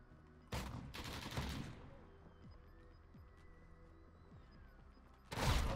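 Bursts of rapid gunfire from the Modern Warfare beta shooter game crackle loudly in two separate volleys, with softer game ambience and faint clatter between them.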